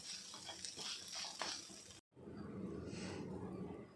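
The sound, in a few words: coconut and spices dry-roasting in a pan for Udupi rasam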